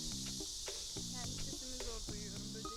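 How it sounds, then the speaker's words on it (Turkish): Crickets in a park in central Korea at night keep up a constant, shrill chirring. It stays steady throughout, with lower tonal sounds and faint voices underneath. "bu cırcır böcekleri var ya."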